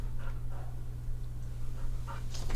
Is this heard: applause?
no